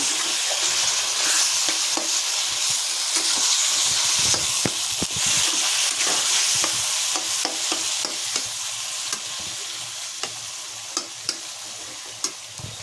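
Vegetables for a niramish sabji sautéed in a pan with a little water, a loud continuous hiss and sizzle with frequent scraping and tapping stir strokes, close up and without speech.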